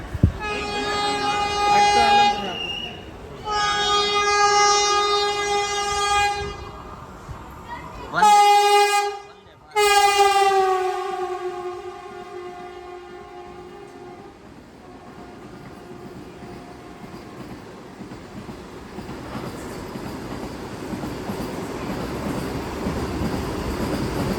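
A train's horn blares in several long, loud blasts, echoing across an open platform at Krishnarajapuram railway station, followed by the rumble of rail cars and steady background noise.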